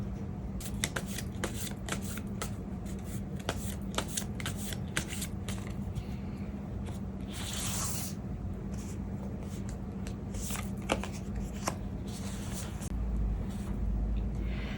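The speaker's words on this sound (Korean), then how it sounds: "여러분의 완전한 2월을 위한 조언 카드를 한번 뽑아볼게요" Tarot advice cards are shuffled and drawn close up, giving a run of quick papery flicks and riffles, with one longer riffle burst partway through and quiet handling noise between.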